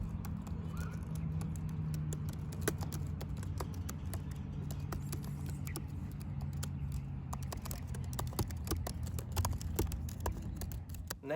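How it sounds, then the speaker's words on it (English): Quick, uneven key clicks from typing on the Magic Keyboard of a 2020 MacBook Pro, rattling along close up over a steady low room hum with no voices. "So here's the typing test for those who want to see the typing experience."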